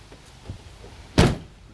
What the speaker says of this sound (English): Oh yeah, the door works.